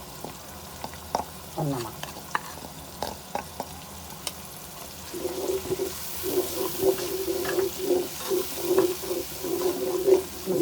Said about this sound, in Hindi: मसाले को भून लेते हैं 1 से 2 मिनट तक